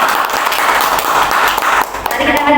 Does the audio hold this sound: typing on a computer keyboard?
no